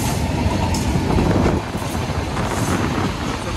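Two express trains, the Howrah Sri Sathya Sai Express and the Santragachi Tirupati Weekly Express, race side by side on parallel tracks, giving a loud, steady rumble of wheels and rushing wind close to the microphone throughout.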